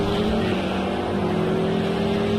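BMW and Ferrari race cars battling closely on track, a steady loud engine drone with sustained tones blending together, continuous and dense without breaks.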